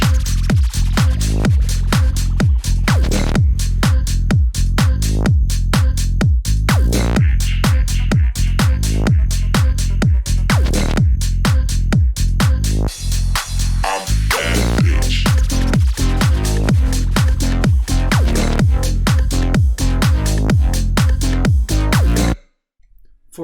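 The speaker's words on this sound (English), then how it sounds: "The vocal in combination with the main bass and the drums and the FX sounds like this" Tech house track with a chopped vocal over a heavy main bass, punchy four-on-the-floor drums and sweeping FX, loud and continuous, pumping steadily before cutting off abruptly near the end.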